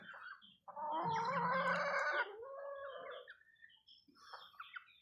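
Boston Sweater Roundhead gamefowl hens cluck and call in a backyard, one loud drawn-out squawking cackle up close followed by softer scattered clucks.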